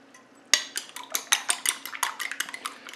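Eggs being scrambled in a bowl: after a brief quiet start, a rapid run of close clinking taps from a utensil beating against the bowl, with no talk.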